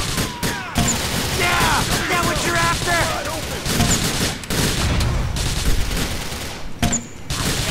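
Grenade launcher and dense gunfire in GTA The Lost and Damned, a rapid burst of loud shots and blasts over game music, with a brief distant voice.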